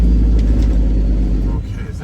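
Cars passing on a road beside a waiting truck, a steady low rumble of traffic that swells and fades, with a voice talking over it.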